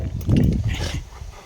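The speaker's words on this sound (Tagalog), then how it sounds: "Ang laking aso eh." Big dog encountered while picking wild blueberries in Canada, giving a short deep bark or grunt up close, with some background rustle.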